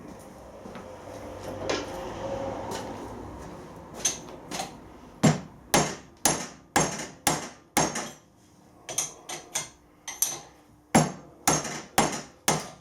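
After a quiet rustling start, a series of firm hammer blows drives a tight interference fit in a steady rhythm, over a dozen solid knocks striking something tight and wooden.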